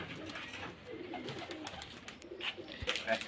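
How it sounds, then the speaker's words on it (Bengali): Soft pigeon coos from Rajshahi Giribaz pigeons at a loft in the background, a few low murmuring calls among faint outdoor noise and scattered bird sounds. "এই যে অনেকগুলো কবুতর দেখতে পাচ্ছেন।"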